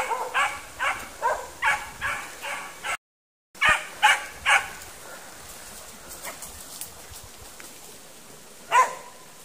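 A dog barks repeatedly in short, evenly spaced bursts, moderately close, followed by a pause and a few more barks, with one last bark near the end.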